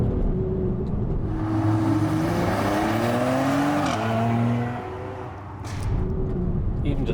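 A 2020 Mercedes-AMG GLC 43 with its V6 in Sport Plus mode accelerates hard, the engine note climbing loud and close, easing briefly near the end before pulling again.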